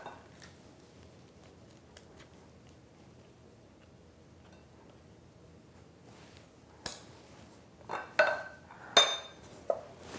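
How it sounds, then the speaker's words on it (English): A spoon mashes butter into powdered sugar in a bowl, quiet at first, then a run of irregular clinks and scrapes against the bowl in the last few seconds, with no talk. "Mix that in with the butter as best you can."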